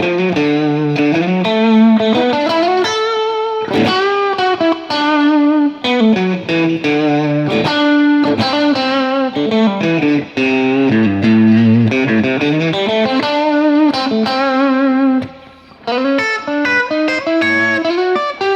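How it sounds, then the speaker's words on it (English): Electric guitar plays a continuous melodic line through an amp with heavy distortion and some reverb, loud and sustained with bending notes and brief pauses, no talking. "a little bit more distortion"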